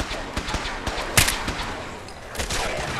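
Rifle gunfire in the video game Fallout 4: several sharp, separate shots spaced irregularly over a few seconds, one louder crack standing out, with steady game ambience beneath.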